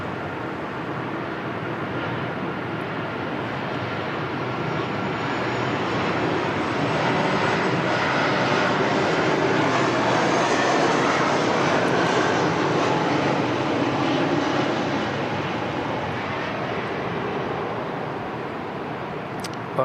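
Airliner jet engines roar at Sydney Airport on a wet, windy day, a broad steady rumble and whoosh that swells gradually to a peak mid-way and slowly eases, with a faint voice briefly under it.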